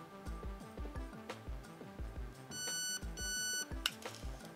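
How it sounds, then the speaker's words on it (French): Two long, steady electronic beeps from an airsoft rifle's trigger unit confirm a saved setting, sounding close by over a backdrop of rhythmic low thumping music, followed by a short click. "on reste appuyé sur la queue de détente jusqu'à entendre un bip long confirmant la sauvegarde du réglage"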